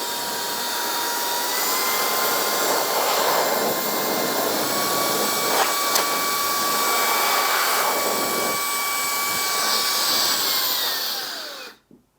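A Reesibi R5 battery-powered air blower blasting dust out of a computer, a loud steady high-pitched whine and rushing air held close for several seconds, then shutting off abruptly.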